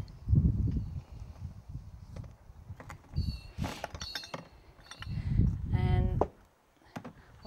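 Glass bottles and jars, green and brown, clink against each other while household waste is sorted by hand, a few sharp chinks amid handling thumps and rustle, with brief talk nearby.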